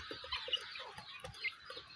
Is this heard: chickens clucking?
yes